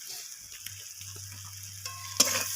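Potatoes sauté with ginger paste and spices, producing a quiet, even sizzle over a low hum, with occasional soft stirring knocks and a louder scrape near the end.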